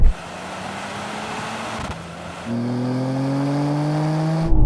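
A Mercedes-AMG C63, BMW M3 and Audi RS4 are floored from highway cruising in a drag race, their engine notes rising steadily in pitch under full-throttle acceleration, loud and close, with no talking.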